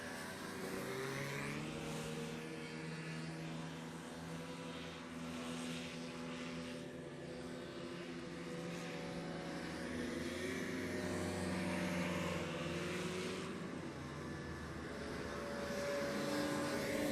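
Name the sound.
racing hovercraft crossing the line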